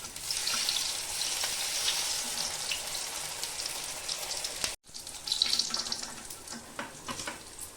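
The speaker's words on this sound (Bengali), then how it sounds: "এভাবে আমি সব কটা বড়া ভেজে নেব।" Dried fish fritters (bora) fry in oil with a steady hissing, bubbling crackle, close and moderately loud, with a brief cut partway through before the frying resumes.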